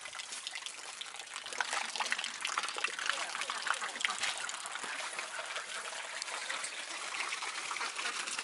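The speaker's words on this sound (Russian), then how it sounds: "Воду коровы пьют вот из этих двух корыт. Каждый день они наполняются свежей водой." Groundwater running into cow drinking troughs on a village farm, a continuous close trickling and splashing stream of water that stays steady throughout.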